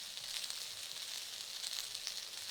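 Onion frying in a pan for a steak sandwich gives a soft, steady sizzle with fine crackling, faint and continuous with no talking.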